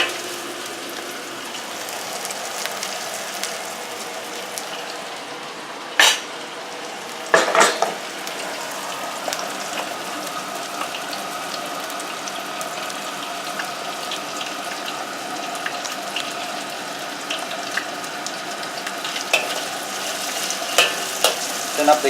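Chicken and curry paste fry in a wok with a steady, close sizzle and crackle, stirred throughout, with a couple of sharp utensil clatters partway through and no talking.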